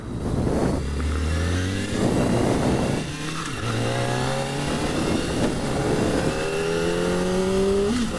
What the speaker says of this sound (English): even though it's a 400cc machine, the sound of the inline 4 is undisputed